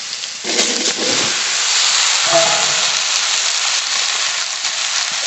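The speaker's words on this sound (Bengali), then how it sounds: "এই তেলের মধ্যে কেটে ধুয়ে রাখা আলু ওই লাউ দিয়ে দেবো" Cut and washed potatoes and bottle gourd hit hot oil for a lata fish and gourd curry, giving a loud, steady sizzling hiss with a few soft stirring knocks early on.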